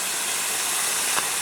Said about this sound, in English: It's steaming already.